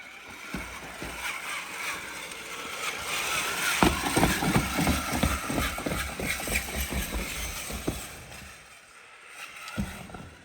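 A Traxxas Summit RC rock crawler on oversized Xmaxx tires drives across rocks, with a whirring electric motor and gear whine, scrabbling tire and rock clatter, and irregular knocks at close range.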